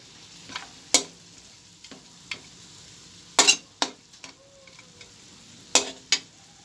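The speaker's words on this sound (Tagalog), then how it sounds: "Halo-haloin lang natin" Frying pork is stirred in a pan, with a low steady sizzle under sharp, spaced scrapes and clinks of a utensil against the metal, about a dozen strokes coming close and clear.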